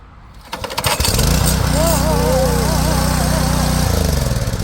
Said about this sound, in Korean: 시동 걸어주는 거.